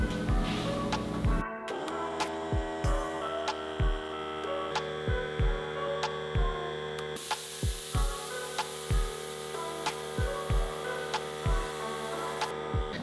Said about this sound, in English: the compressor will fill up, and then when it gets to capacity, it does not shut off